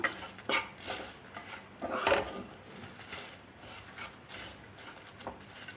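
A spoon scrapes and clinks against a pan as coriander, turmeric and chicken masala are mixed into coconut roasting for a breadfruit curry, giving irregular close scrapes and a few louder knocks with no talking.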